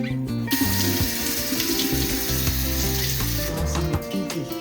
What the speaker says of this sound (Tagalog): kunin natin ang ating melon, cantaloupe, at ating hugasan.